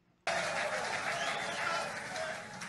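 An audience applauds steadily and fairly loudly at a public event, the clapping starting abruptly after a brief quiet moment and holding as a dense, sustained wash to the end.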